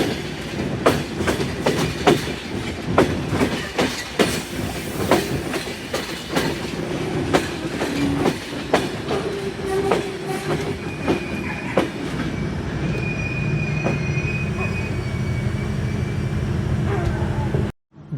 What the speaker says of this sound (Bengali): খুলনা অভিমুখী জাহানাবাদ এক্সপ্রেস ট্রেনটি তার সর্বশেষ যাত্রা বিরতি নোয়াপাড়া রেলওয়ে স্টেশন প্রবেশ করছে।